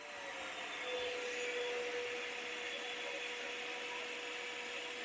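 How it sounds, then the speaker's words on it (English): A snow machine blower runs on its minimum setting, giving a steady, faint motor whir with a thin continuous whine and no talking. "it still throws a lot of snow, but obviously the blower motor isn't pushing it as far as on max."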